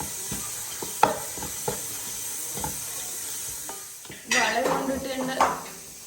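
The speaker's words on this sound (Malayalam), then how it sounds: "നന്നായിട്ട് മിക്സ് ചെയ്ത് കൊടുക്കുക. പച്ചമണം വാങ്ങുവരെ ഇളക്കണം." Masala for duck curry is stirred in a pan, with a spoon scraping and tapping against the metal in scattered strokes, then a louder sizzling, clattering burst of stirring near the end, up close.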